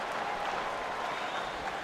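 Stadium crowd in the baseball video game MLB 15 The Show, a steady broad roar and murmur of a ballpark audience with no commentary over it.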